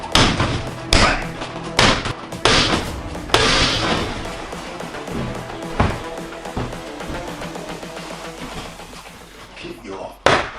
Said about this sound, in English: I'm moving, I'm sparring, bang! That's your perfect back kick.